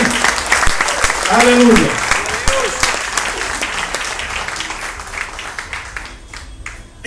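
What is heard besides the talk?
church congregation applause for the Lord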